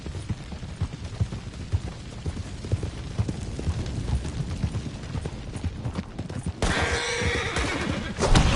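Horses neigh and whinny close by in a video game amid clip-clopping hooves and mechanical clatter, with a louder rushing noise near the end.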